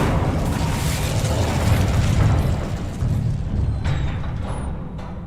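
Incendio fire spells from the Hogwarts Legacy video game burst in a dense, loud rush of booming explosions that gradually thin out, with a few faint sharp accents near the end.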